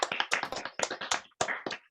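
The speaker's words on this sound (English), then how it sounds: "enormous round of applause." A small audience claps in a short, close burst of scattered handclaps at a poetry collection launch held over Zoom. The claps come in uneven clusters with a brief gap near the end.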